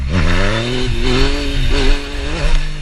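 A Yamaha FZ-09 motorcycle engine revs hard during a power wheelie. The roar is loud, close and continuous, its pitch rising and falling as the throttle is worked, with no talking.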